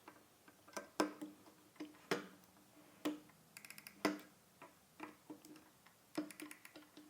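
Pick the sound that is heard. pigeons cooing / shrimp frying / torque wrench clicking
torque wrench clicking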